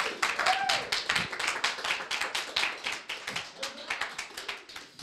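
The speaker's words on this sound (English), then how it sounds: "So go ahead and give you guys a round of applause for yourself" A conference audience clapping together, a dense run of many hands applauding steadily from start to finish with a voice heard faintly beneath.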